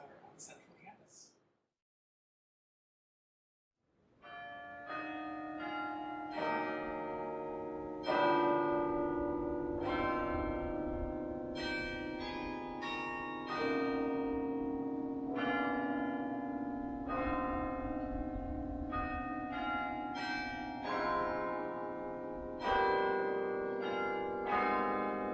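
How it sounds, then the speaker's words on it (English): The carillon in a campus bell tower plays Lift Every Voice and Sing, a sustained melody of ringing, overlapping bell tones after a brief quiet opening. "today I'll be performing Lift Every Voice and Sing here on the Charles Barrett Carillon"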